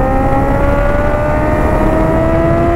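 Kawasaki H2 supercharged motorcycle engine pulling steadily under acceleration, a loud continuous drone with a slowly rising pitch, close and alone without speech.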